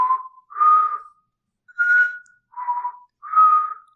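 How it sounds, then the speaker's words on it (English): A person whistles a short tune of five clear, separated phrases, each a bright sustained note with slight pitch slides and brief silent gaps between them. The whistling is close and alone, with no talk. "whistling was very frequent in this movie"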